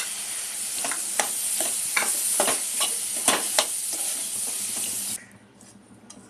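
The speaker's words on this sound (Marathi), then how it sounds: "आता आपण भिजवलेली डाळ परतून घेऊया।" Soaked chana dal sautés with turmeric in a hot pan for a bottle gourd bhaji, a bright continuous sizzle broken by repeated scraping stirs from a spoon, before the frying abruptly quietens near the end; nobody speaks.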